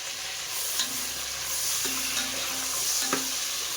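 Food stirred and roasted in butter in a pan, a steady sizzle with occasional scraping strokes of the spoon against the pan, close and continuous.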